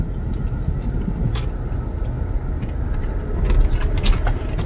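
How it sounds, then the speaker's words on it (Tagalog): Congested road traffic on EDSA at Buendia in Metro Manila, a steady rumble of idling and crawling cars and buses with occasional higher rattles and swells, heard up close from within the jam. "Nandito nga lang sa Bundia, traffic na eh."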